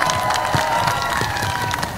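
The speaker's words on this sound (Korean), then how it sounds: "뜨거운 한호와 박수로 맞이해 주십시오." A rally crowd in Busan cheers and applauds to welcome a guest onto the stage, a steady, dense wash of clapping and shouts with scattered louder whoops throughout.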